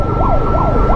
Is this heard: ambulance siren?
yes